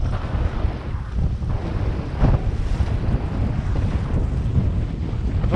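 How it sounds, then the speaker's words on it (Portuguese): Strong wind buffets the microphone on a small sailboat sailing close-hauled under a single sail, a steady loud roar with gusty surges over water and wave wash. "vento apertou bastante aqui."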